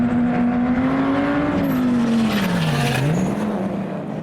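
A Dodge Viper and a Subaru racing at SEMA 2022: a loud, close engine drone that climbs, dips and rises again with the throttle, with faint tire noise, and no voices.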